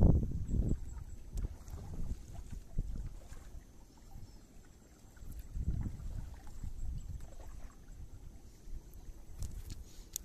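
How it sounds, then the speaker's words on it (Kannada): A boat travels along a backwater river through a mangrove forest. It gives a low, rumbling water and motor wash that swells and fades, with wind buffeting the microphone and no talking. "ಸಾಧಾರಣ 2-3 ಕಿಲೋಮೀಟರ್ ದೂರ ನಾನಿವತ್ತು ಈ ಹಿನ್ನೀರು ಹೊಳೆಯಲ್ಲಿ ಪ್ರಯಾಣಿಸಿದ್ದೇನೆ ದೋಣಿಯಲ್ಲಿ"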